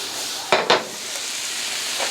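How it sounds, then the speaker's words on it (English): Vegetables sizzle softly in a pan while sauteing, a steady low frying hiss with two brief stirring scrapes near the start and another faint one at the end. "So we're just going to saute these until they're soft."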